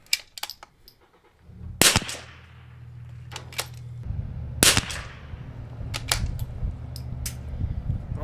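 Fouling shots crack from a custom .22LR rifle, with several sharp reports spaced apart and some small clicks, all over a steady low mechanical hum.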